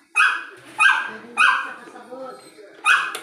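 A dog barks outside a house: five sharp, loud barks close by, spaced in a steady rhythm with brief pauses between them.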